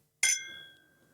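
Whiskey glasses clink once in a toast, giving a single bright, ringing chime that decays slowly in a quiet room.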